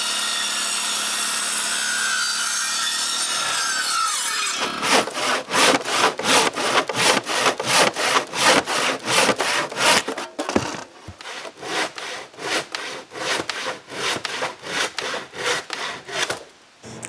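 Wooden support braces for a firewood shed are hand-sawn in steady back-and-forth strokes. The rasping rhythm is close and loud, with a brief pause midway before the sawing resumes.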